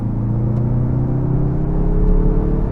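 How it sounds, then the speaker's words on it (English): Steady, loud engine rumble of a 2023 Mazda 3 Turbo hatchback pulling forward under acceleration, a smooth low drone with a faint whir on top. "It's just such an effortless acceleration."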